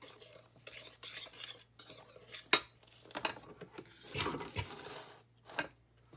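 Dry ingredients for a no-oil carrot and walnut bread get whisked together in a bowl, with quiet scraping and rubbing strokes and a sharp clink of the whisk against the bowl, fairly faint and intermittent.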